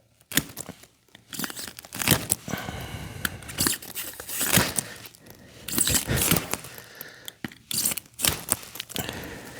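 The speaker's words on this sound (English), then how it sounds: "It's making it a little bit harder for that blade to cut." A blade cuts through a rubber gym floor mat in close, uneven bursts of tearing and crunching, separated by short pauses.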